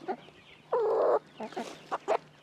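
Chickens being raised and sold for meat cluck in a few short, near calls, with one longer, louder squawking burst in the middle.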